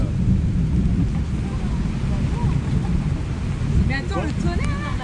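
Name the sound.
thunder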